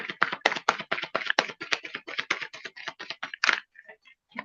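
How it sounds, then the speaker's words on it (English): A deck of cards is shuffled a few times for a card reading, a rapid close run of crisp flicking taps that ends in a few scattered clicks. "let me just shuffle a few times"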